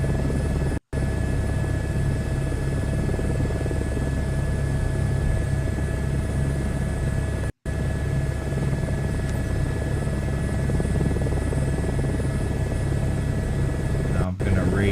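A helicopter in Microsoft Flight Simulator 2024 runs with a loud, steady engine and rotor drone, sustained throughout with a few abrupt momentary dropouts. Someone talks over it.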